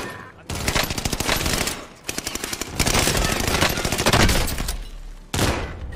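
Rapid automatic gunfire in the Rebirth Island battle royale video game, dense bursts of loud shots in several long volleys separated by brief gaps, with a player's voice faintly mixed in.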